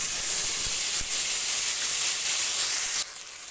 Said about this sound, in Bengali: এই জিরে আদা লঙ্কার পেস্টটাকে ভালোভাবে নাড়িয়ে একটু ভেজে নেব